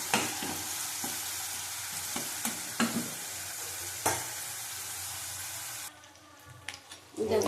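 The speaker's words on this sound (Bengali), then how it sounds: "ভালো করে ভেজে নেব।" Chopped onions sizzle steadily in a hot pan for a katla fish curry, with occasional stirring scrapes and clanks, until the frying noise drops off abruptly near the end.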